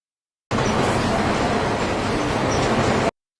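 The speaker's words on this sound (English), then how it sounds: "And there's another train coming." A steady, loud roar of rumbling noise, like a train passing close, starts abruptly and holds constant before cutting off.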